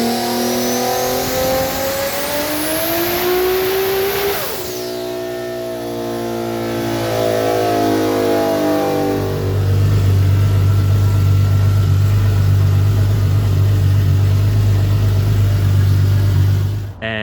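High-power car of roughly 1,336 wheel horsepower, with a fuel system running six injectors, revs hard on a dyno: a loud rising engine note climbs through the gears, then settles into a deep, sustained roar at high load.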